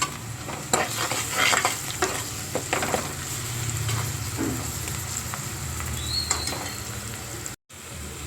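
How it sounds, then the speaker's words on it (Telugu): A spoon stirs turmeric into a pan of frying ridge gourd and chana dal curry with ginger and garlic, producing a steady close sizzle with repeated scraping and stirring strokes against the pan. "1/2 స్పూను పసుపు వేసుకొని ఒకసారి కలిపేసి"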